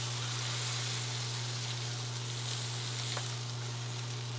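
Wagyu steak sizzles in butter in a hot pan, a steady close hiss and crackle under a constant low hum, with no talking.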